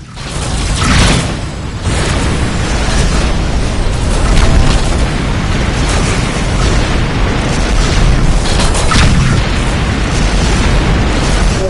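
Missile explosions in the space combat game Rebel Galaxy on PS4 roar as heavy, sustained booming blasts with rumbling bursts, loud and dense throughout, no voices over them.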